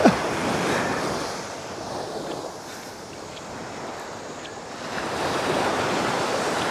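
Sea waves wash steadily onto a beach in central Vietnam, a continuous broad roar with wind buffeting the microphone, swelling slightly at the start and end, with no talking.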